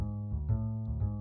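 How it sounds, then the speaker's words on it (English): A bass plays a few low, sustained notes in quick succession, the pitch shifting slightly between them, heard alone and fairly soft. "That is the sound of a bass."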